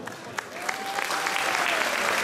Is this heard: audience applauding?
yes